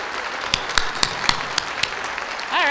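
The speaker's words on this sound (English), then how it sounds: "So let's give them all a round of applause." An audience claps for women honored at a motorsport salute event, with sparse, separate claps under a steady crowd wash before a brief whistle-like tone at the close.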